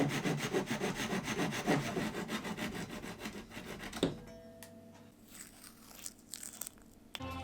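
A chisel paring the ends of glued 8mm wooden dowels set in MDF while building a large dog bed, rapid rhythmic rasping strokes at first, then a sharp knock and quieter scattered scrapes and taps nearby.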